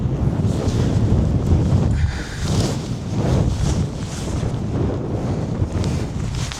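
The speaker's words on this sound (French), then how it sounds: "Purée, le vent." Strong mountain wind in the Pyrenees buffets the microphone with loud, continuous roaring gusts that swell and ease in waves, nothing else audible over it.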